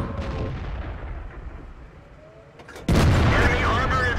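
IS-3 tank cannon firing in the video game World of Tanks, a single sudden loud boom with a sharp crack near the end, following quieter battle ambience and tank hum.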